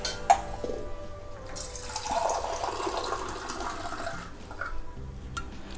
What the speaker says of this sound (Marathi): पाणी घालून ते भिजवणार आहे